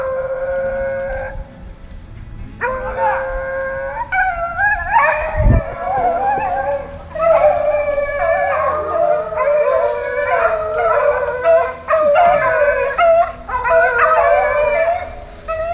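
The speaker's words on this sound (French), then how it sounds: "les chiens vont monter droit sur moi, tous ensemble en train d'aboyer" A pack of boar-hunting dogs bays and howls together in a continuous, overlapping chorus of drawn-out cries, loud and close, during a driven hunt.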